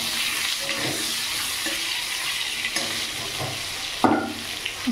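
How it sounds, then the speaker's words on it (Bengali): Potatoes sizzle as they fry in oil in a wok, a steady crackling hiss broken by a few scraping, clattering stirs, one sharper knock near the end. "আলুর সাথে তেলটাও গরম হয়ে যাবে"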